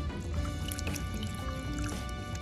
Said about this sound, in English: you're going to want to squeeze it around a bit